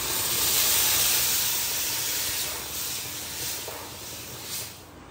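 Homemade gravy for chole and kashiphal (pumpkin), made without onion or garlic, hits a hot pan with a loud, steady sizzling hiss that gradually eases off, with no talking.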